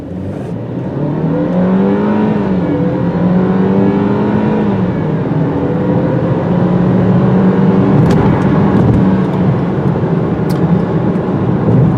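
A turbocharged BMW 3 Series engine revs and pulls hard, its pitch sweeping upward in rising harmonic waves, loud and continuous with no voices.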